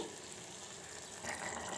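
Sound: water poured into cooking pan

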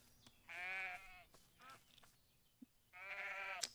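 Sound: sheep bleating in the video game Everdream Valley

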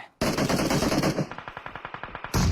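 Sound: gunfire from a video game match

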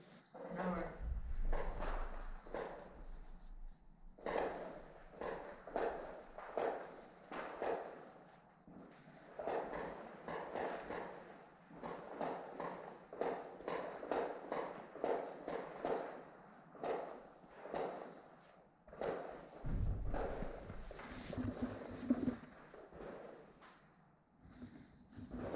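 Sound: gunshots on a frontline

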